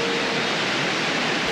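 A waterfall in the jungle on Nepal's Annapurna Circuit, heard near the little wooden bridges that cross it, gives off a steady, loud, broadband rush of falling water with no voices.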